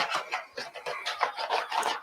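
Steady back-and-forth rasping of sandpaper on wood, about eight quick, even strokes in a row, close and fairly loud with no talking.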